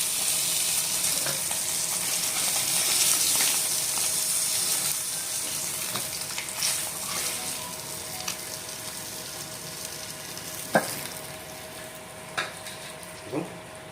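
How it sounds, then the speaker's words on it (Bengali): Small puti fish frying in oil in a pan, a continuous close sizzle with scattered sharp clicks and light clatter from utensils or the pan toward the end. "তো আমাদের প্রথম ভাগের মাছ কিন্তু ভাজা হয়ে গেছে।"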